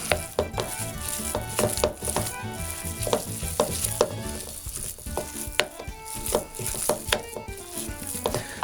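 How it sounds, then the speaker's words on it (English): Meatloaf mixture being stirred by hand in a bowl or pan, a busy run of wet, clattering scrapes and knocks with frequent sharp utensil hits, steady and close with no talking. "Stir it up."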